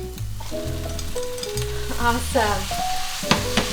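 Thinly sliced beef hits a hot pan with onions for gyudon and sizzles loudly and steadily, with spatula stirring and clatter over background music, and a voice speaks briefly.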